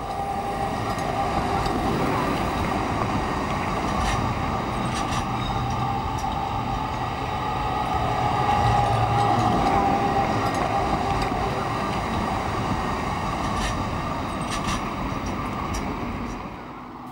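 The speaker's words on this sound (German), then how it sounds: "Auf den regelspurigen Strecken sind nun ausschließlich Tatra T3D im Einsatz." A Tatra T3D tram runs on standard-gauge track, giving a continuous loud rumble of wheels and motor with a faint high squeal and steady rattling throughout, easing slightly at the end.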